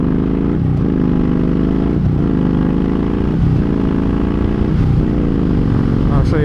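A motorcycle engine holds high revs, then drops briefly with quick rev-matching blips on downshifts, such as fourth to third, repeating several times in a steady, loud, close rhythm.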